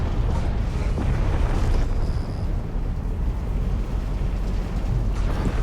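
Ship weapons firing at enemies in the Star Citizen game, a dense, continuous roar of blasts and rumbling explosions filling the whole clip at high volume.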